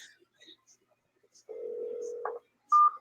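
Telephone dial and ringback tones while a call is placed, a steady low tone lasting about a second followed by a short higher beep, alone and fairly close on a phone line.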